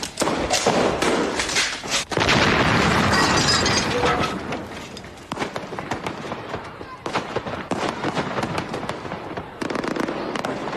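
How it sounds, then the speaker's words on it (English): Artillery shelling in a World War I trench setting, heard as a dense, continuous barrage of booms, cracks and shattering debris, loud and unbroken with brief dips, with voices partly buried beneath. "Was that artillery?"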